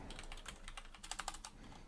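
Rapid computer keyboard typing during an Offworld Trading Company multiplayer match: a dense, continuous run of soft, close keystrokes at a low level, with a few sharper clacks and no talking.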